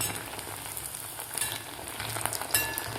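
Bhagar vade, fasting fritters of barnyard millet, fry in hot oil just after being turned over, giving a steady close sizzle with faint crackles and no voices.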